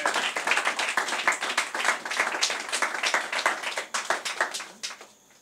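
A church congregation claps to acclaim Jesus Christ, with steady, rapid group applause that stays fairly loud and close and then tapers off near the end.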